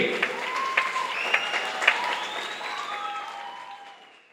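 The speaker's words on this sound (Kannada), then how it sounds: "ಎಲ್ಲ ಪ್ರಬುದ್ಧ ಕಲಾವಿದರಿಗೆ ಜೋರಾದ ಚಪ್ಪಾಳೆ ಬರಲಿ." An audience applauding performing artists at a stage event, scattered claps with a few sharp louder hits that fade over the seconds, with a voice speaking over them.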